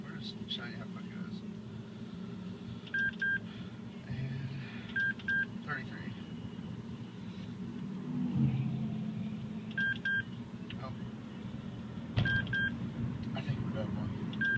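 A radar detector sounds short paired electronic beeps in bursts while a car drives through town, the chirps recurring over steady road and engine noise.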